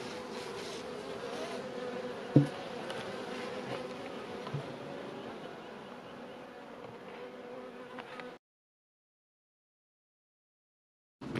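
Honeybees in a hive buzz in winter during a varroa treatment with oxalic acid, a steady close droning hum for about eight seconds with one brief knock, then silence.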